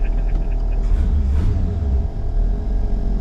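A Ford Falcon Ranchero with a straight-six 170/200 engine and Holley Sniper EFI idles steadily at about 790 RPM, a low continuous rumble close by with a slight swell near the middle.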